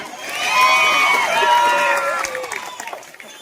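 A crowd at a political election rally cheers and claps, a swelling mass of voices with tonal shouts that holds steady and then thins out over a few seconds.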